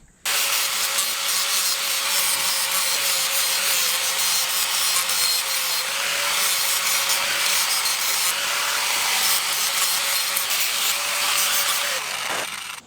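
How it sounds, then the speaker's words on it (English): A power grinder grinds down the metal dropout of a coilover on a Porsche 944, a loud, continuous close abrasive whine held for about twelve seconds before spinning down, with no speech. "So we'll grind that down just a little bit, see if that hole lines up better."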